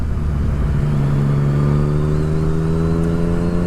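Yamaha FZ09 motorcycle engine with a Woolich ECU flash, revving steadily and loud and close, its pitch climbing gradually as the revs rise, with no talk over it.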